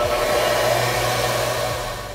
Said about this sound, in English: This is my disc sander, and I use this all the time, going back and forth.